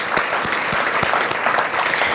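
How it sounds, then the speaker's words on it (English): Audience applause at a community forum event, a dense steady wash of clapping from a large crowd, loud and continuous throughout with no speech over it. "Please join me in a round of applause."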